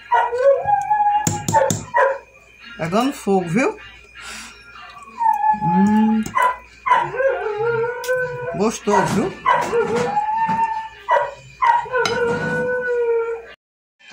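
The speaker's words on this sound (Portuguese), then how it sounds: "Tá desculpando aí o cachorro, viu, minha gente? O cachorro não é meu" A neighbours' dog barks and howls repeatedly in drawn-out, wavering cries and sharp yips at a home with a wood-burning stove, loud and close, while someone talks over and between the calls.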